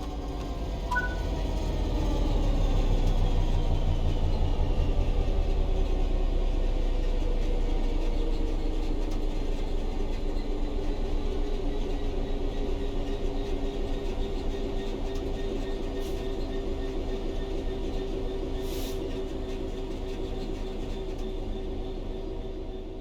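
Steady low rumble of a train coasting on level track with the throttle shut in Train Sim World 3, a continuous drone that stays loud and even throughout, with no voices.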